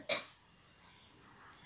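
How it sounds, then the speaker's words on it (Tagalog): A child with a sore throat and a cold gives one short, sharp cough at the start, fairly faint and close, followed by quiet room tone. "And ngayon nga, inuubo na siya."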